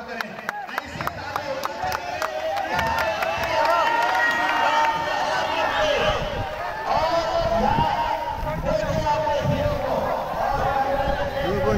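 An outdoor crowd claps and cheers to welcome a footballer from India's under-19 team, a dense, continuous roar of hands and voices with a loud voice carrying over the noise.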